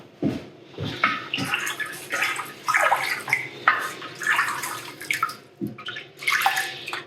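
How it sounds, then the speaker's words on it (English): Homemade limoncello is stirred in a container, with continuous close sloshing and swirling liquid sounds and occasional clinks, steady and moderately loud throughout. "I'll give it a stir."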